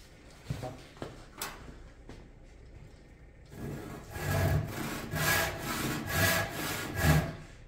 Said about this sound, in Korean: 톱질을 해줘야 됩니다.